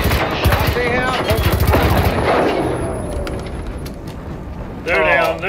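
Rapid bursts of gunfire from an experimental weapon in the video game Generation Zero crackle in the mix, partly masked by players talking over the shots.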